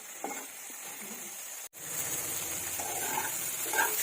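Green chillies frying in a pan for a village-style bottle gourd curry, a steady close sizzle with faint crackles that cuts out for an instant midway, then resumes slightly louder.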